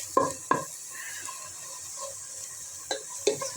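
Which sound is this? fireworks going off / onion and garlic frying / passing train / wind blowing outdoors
onion and garlic frying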